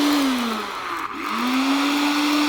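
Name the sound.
mixer grinder running while making a shake with milk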